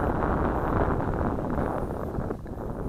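Gusty wind buffets the microphone outdoors near bushes on a windy day, a loud, steady broadband rush that eases slightly toward the end.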